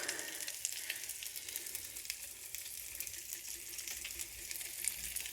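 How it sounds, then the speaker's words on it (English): Hamburger patties topped with cheese slices cooking in a pan give off a soft, steady sizzle with faint crackles, heard alone at a modest level. "we'll let those cook, just to kind of melt it onto the hamburger patty"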